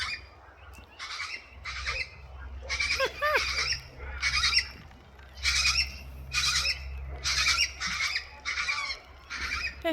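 Major Mitchell's cockatoos squawk repeatedly while playing, giving loud harsh calls in a steady series of bursts over a low constant background hum, with no talking.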